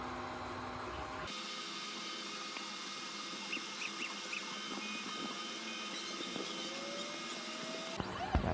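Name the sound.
3D printer printing a flower pot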